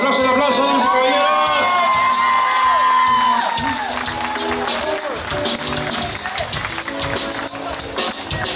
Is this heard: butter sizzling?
no